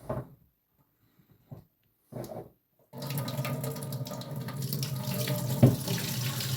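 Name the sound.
draining green olives, water running in sink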